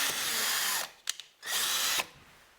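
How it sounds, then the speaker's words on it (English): A power drill whines loudly in two bursts as it bores a screw hole through an exterior door sweep, with a brief clicking pause between them and no talk. "just go ahead and drill one right through the door sweep"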